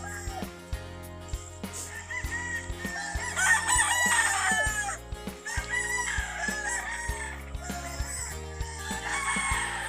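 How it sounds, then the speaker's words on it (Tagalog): On a farm, a rooster crows loudly several times over steady clucking chickens and rhythmic background music. "Tsaka nakakatuwa yung mga manok."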